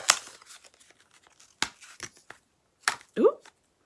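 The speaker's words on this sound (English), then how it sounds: "I'm going to have to take the wrapper off" Plastic wrapping is torn off a boxed manicure set, giving a few sharp ripping and crinkling bursts with short pauses between them, close by and indoors.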